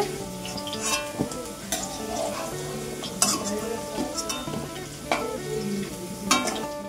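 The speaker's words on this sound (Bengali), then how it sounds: "তো ফার্স্টে আলুটা ডুমো ডুমো করে ভেজে নেওয়া হচ্ছে।" Diced potatoes fry in oil in a pan for a potato dalna. The close, steady sizzle is broken by repeated scraping and clinks of a stirring utensil, with no talk.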